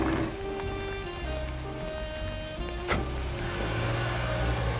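Car engine running low and steady while the vehicle is parked, with a brief sharp click or clunk partway through and a faint whir like a power window.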